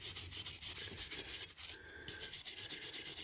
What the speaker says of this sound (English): Get the old trusty brush out and give it a go.